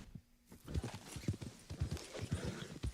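A horse walks with a steady rhythm of close, distinct hoof clops, one or two each half second, and breathes or snorts softly between steps.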